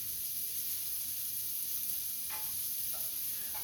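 Shallots fry in a hot pan with a steady, bright sizzle that holds evenly throughout, joined by a couple of faint stirring ticks.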